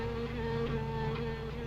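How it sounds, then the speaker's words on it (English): Steady buzzing of a wasp, continuous and fairly close, with a drone that wavers slightly and no voices over it. "Listen. Wasp?"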